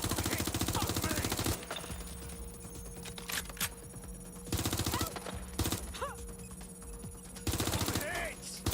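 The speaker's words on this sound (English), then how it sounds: "Shots fired!" Rapid automatic gunfire in the video game Watch Dogs Legion, dense rattling bursts that start and stop repeatedly, loud and close, with shouting voices mixed in.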